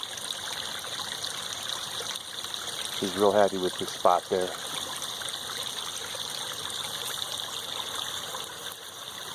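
A small stream in a backyard garden flows with a steady, gentle wash of water. Someone speaks briefly over it midway.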